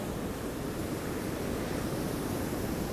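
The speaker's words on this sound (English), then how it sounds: "Big waves." Big winter waves breaking on Rossall Beach at Cleveleys, a continuous broad roar of surf with a steady wash of noise and some wind buffeting, loud and unbroken throughout.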